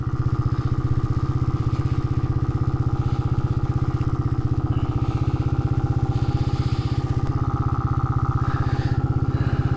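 Honda Monkey motorcycle engine running steadily while being ridden, a close, even, putting drone with a rapid regular pulse that holds throughout, no talking.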